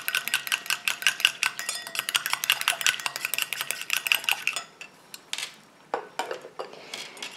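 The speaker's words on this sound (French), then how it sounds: "Et je mélange comme ça pendant 4 à 5 minutes." Oil and water phases of an eye cream are stirred in a small container, giving rapid, rhythmic clinks and scrapes of a utensil against the vessel that stop abruptly, followed by a few scattered knocks.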